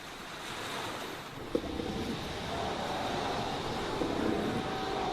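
Sea surf breaks along a coastline in a continuous loud wash of waves, with gusty wind noise over it and no voices.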